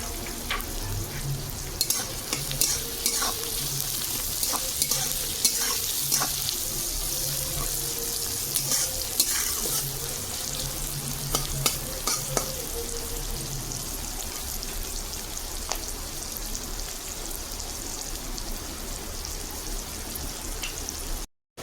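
Onion frying in a pan with salt, cooking for a masoor dal dhoka curry: a steady, close sizzle with occasional scraping and clinking as it is stirred, with no talking.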